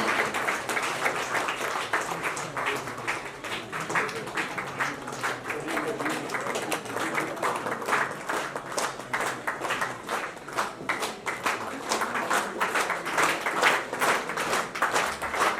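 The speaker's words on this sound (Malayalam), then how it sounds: "ഒരു വലിയ കയ്യടി കൊടുക്കാം." Sustained crowd applause at a cooperative society's zonal achievement ceremony honouring an award winner, with many hands clapping in a dense, even patter that carries on steadily without pause.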